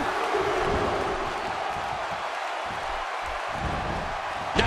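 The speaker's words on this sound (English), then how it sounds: "by the sound of this crowd, I think they're getting what they wanted" A wrestling crowd at a tag-team event roars in a steady, dense wave of cheering and shouting that holds at a constant level throughout, with a brief sharper burst at the very end.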